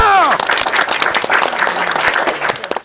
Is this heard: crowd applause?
yes